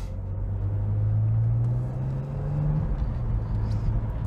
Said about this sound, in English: the heel and toe downshifting is really a combination of braking and rev matching